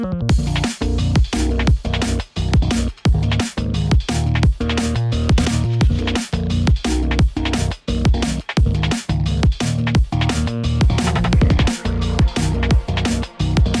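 A loud, dense drum and bass drop with fast driving beats, heavy bass and thick layered synths pounding continuously without pause.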